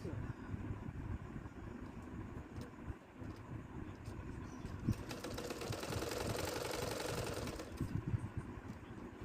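A sewing machine stitching fabric for sarara pants, a fast steady mechanical whir with a brief denser burst mid-clip, heard close and moderately quiet.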